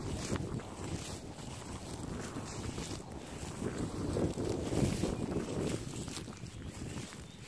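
Steady wind rushes and buffets across the whole stretch, a broad continuous roar with no talk.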